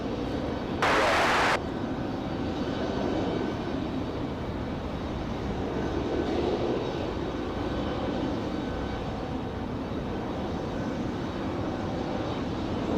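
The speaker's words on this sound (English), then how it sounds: "This is our A319 back to Philadelphia." Distant Airbus A319 departing Raleigh-Durham at night, a steady low broadband rumble of jet engines lasting throughout, with a brief loud burst of hiss near the start.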